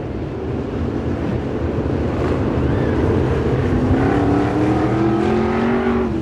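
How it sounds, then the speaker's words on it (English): Sprint cars at Salina Highbanks Speedway on a restart, a loud continuous roar of several engines with pitches climbing as the field accelerates, heard from trackside under wind buffeting. "All the cars must pass on the outside of the cone before it is the official start of the restart"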